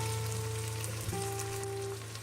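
Whisked yogurt sizzling in oil in a tomato masala for Shahi Dum Aloo, a steady close frying hiss running without pause, with faint tonal hum in the background.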